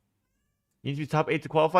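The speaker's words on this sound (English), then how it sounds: "you guys can hear the cat meowing?" A house cat meows repeatedly close by during a live gaming stream, its cries mixed in with someone talking over them.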